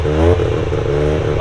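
A Mazda RX7 rotary engine running on ethanol revs loud and close, a buzzing rise then a steady drone, with someone talking over it.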